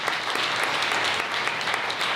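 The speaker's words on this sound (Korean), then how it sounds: "축하의 박수 부탁드리겠습니다" Wedding guests in a chapel ceremony in Cheongdam applaud the newly married couple with a loud, steady, unbroken wash of clapping and no talk.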